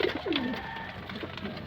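Pigeons coo softly nearby, a few low throaty warbles over faint background noise.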